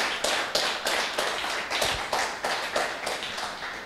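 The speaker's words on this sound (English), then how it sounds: "I would like to applaud them warmly" A conference audience applauds warmly, a steady run of overlapping claps that fills the whole stretch with no talking.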